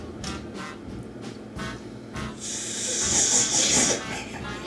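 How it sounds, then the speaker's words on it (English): Sausage simmering in a pan with olive oil: a steady sizzling hiss that swells louder toward the end, with a few sharp clicks and some background talk. "Should be simmering."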